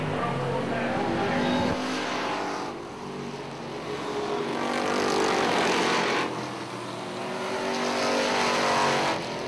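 Super stock race cars roar around an oval track, engines rising and falling in loud sweeping passes as the pack goes by, with tire noise and no talk over it.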